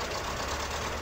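A broken truck engine in the off-road video game SpinTires gives a short, dense, rough mechanical drone, steady and fairly close, with a knocking, buzzing texture.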